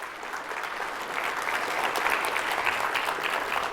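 An audience at a national school drone race event applauds a sponsor, a sustained wash of clapping that builds slightly and holds steady throughout, no voices on top.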